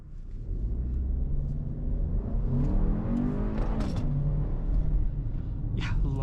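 A 2025 Audi Q3 accelerating hard, heard from inside the cabin: a steady engine rumble that rises in pitch as it pulls, loud and continuous with road noise underneath.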